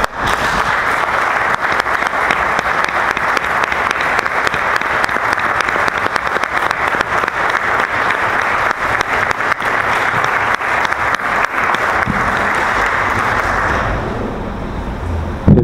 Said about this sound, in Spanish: yo voy a pedir que le brindemos un fuerte aplauso a Verónica